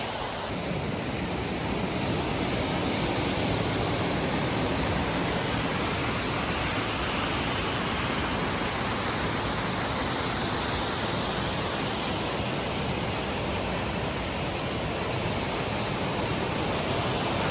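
A waterfall on a secluded hinterland creek pours in a dense, constant rush of white water, loud and close, unbroken for the whole stretch with no voices.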